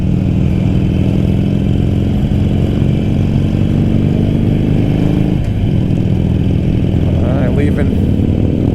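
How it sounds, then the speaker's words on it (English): Motorcycles ride through the Black Forest in Germany, heard as a loud, steady engine drone from a nearby bike with wind rush, and a passing engine shifting in pitch about halfway through. "Lots of bikes out riding today."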